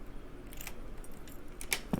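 A bunch of keys jingles when picked up in the video game The Diner, a few faint metallic clinks over a low background hum with no talking.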